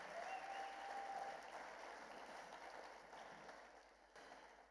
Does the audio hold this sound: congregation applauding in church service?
yes